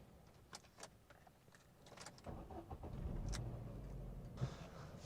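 Ford Focus engine cranking and catching again after stalling at a junction, a low rumble that builds and settles into a steady idle, preceded by a few faint clicks and knocks inside the car.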